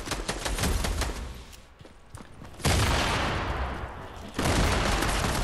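Pistol gunfire in the video game Fortnite in Creative mode, a quick run of rapid shots followed by two louder, sustained blasts of noise, close and fairly loud.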